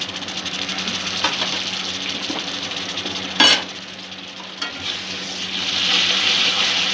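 Spice masala frying in oil sizzles steadily as yogurt is added, with a sharp burst of hissing and stirring clatter partway through, close and fairly loud.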